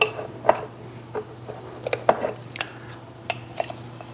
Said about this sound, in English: one rounded scoop of coffee in my French press